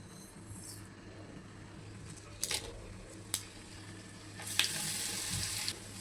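Dried curry leaves and tempering crackle in hot oil in a pan for okra fry, a faint steady sizzle broken by a few sharp spitting bursts, the loudest coming near the end, heard up close.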